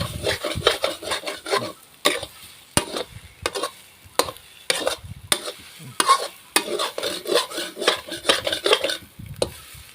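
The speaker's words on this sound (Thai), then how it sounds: "ใส่ไฟอ่อนเด้อพี่น้องเด้อพัดไปเรื่อยพี่น้อง พัดใส่ไข่ไปเรื่อยพี่น้อง" Rice and egg stir-fried over low heat for canned-fish fried rice, with busy close scraping and rhythmic spatula clanks on the pan over a steady low sizzle, no speech.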